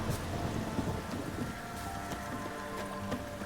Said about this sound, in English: Oh yeah, it's definitely raining.